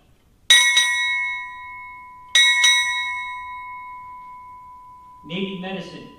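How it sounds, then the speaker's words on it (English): Four ship's bells ring at a Navy change-of-command ceremony, struck in two quick pairs with bright ringing tones that decay slowly, followed by a voice speaking. "Strike, four bells."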